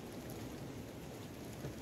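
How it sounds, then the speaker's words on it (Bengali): Heavy rain pouring onto trees on a cloudy mountain trek day, a steady dense hiss of drops, loud and continuous with no talk. "আর শুনতেই পাচ্ছেন গাছের ওপর পড়ছে একদম ঝমঝম ঝমঝম করে বৃষ্টি"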